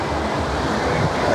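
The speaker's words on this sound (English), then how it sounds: "that is really windy down here, really windy" Strong wind blows across a beach street at Sunny Beach, Bulgaria, a loud, steady rushing roar buffeting the microphone.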